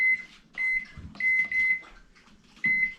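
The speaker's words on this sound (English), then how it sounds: "And I'm going to set my timer." A kitchen oven timer is set while baking a toffee cake at home, giving a series of short electronic beeps in irregular bursts, moderately loud and close, with no talk.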